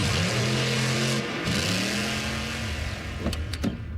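A monster truck engine revs at a rally, a loud sustained roar whose pitch climbs and falls in two long pulls, followed by a few sharp bangs.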